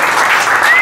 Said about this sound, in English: So let's give God a hand.